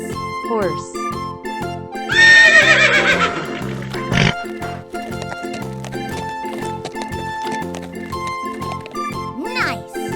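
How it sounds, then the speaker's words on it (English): A toy horse lets out a loud whinny among other toy animals, heard over a looping backing tune, with excited voices nearby. "Horse."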